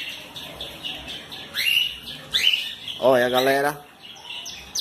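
Small mixed-breed chicks chirp in short, high bursts, with a louder cluster of cheeping partway through, while someone talks over them nearby.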